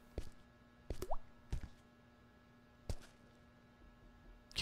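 Sparse water drips falling one at a time, a few soft plops spaced irregularly over a few seconds against a quiet background.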